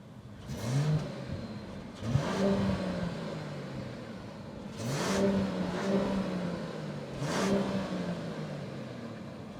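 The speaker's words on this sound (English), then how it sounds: "it's a base car, it's a 6-cylinder. The sound is pretty nice, pretty okay." A 2024 Mercedes-Benz E-Class base model with a six-cylinder engine accelerates in sport mode, revving up in three loud surging pulls that climb in pitch, each dropping back between runs, heard from inside the car with no talking.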